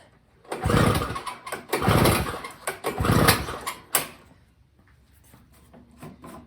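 Three quick pull-starts on a Snapper snow blower's small engine with the ignition on, each a loud rising rasp of the recoil cord and cranking engine that fails to catch, then a click and quiet.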